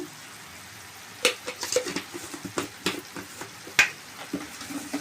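Turmeric and chili powder being stirred into a frying pan: soft, close sizzling with scattered scraping taps and clinks of a utensil against the pan, fairly quiet and irregular, no talk.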